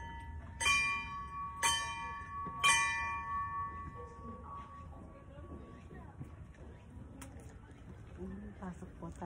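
A temple bell at a Japanese shrine, rung by pulling its rope, gives three bright metallic strikes about a second apart, each leaving a sustained ringing tone that fades under soft outdoor ambience and a faint voice.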